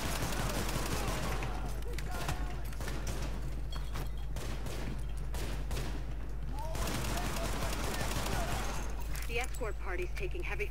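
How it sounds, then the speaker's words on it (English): Heavy automatic gunfire from a rooftop gunner in The Division, with dense bursts of shots and explosions filling the whole stretch, loud and continuous, while voices talk over the combat. "He's taking heavy fire from the roof"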